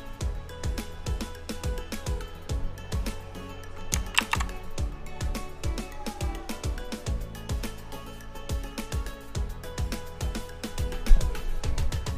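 Keys clatter steadily on a RAKK Kimat XT 2 Anniversary Edition mechanical keyboard, a close, fast run of crisp clicks with brief pauses and one louder stroke near the end.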